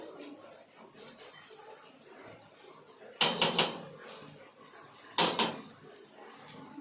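A metal spatula stirs and sautés potato curry (aloo dum) in a pan, giving two short bursts of close clattering and scraping. Low, quiet background fills the gaps between them.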